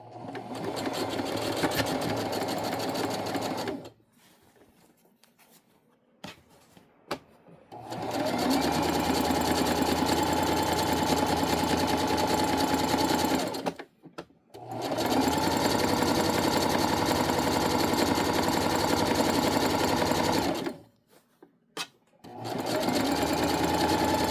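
A sewing machine stitches a flat felled seam on an unlined tote bag, starting and stopping with a back stitch. It makes three long, steady, close whirring runs separated by quiet pauses and a few brief clicks.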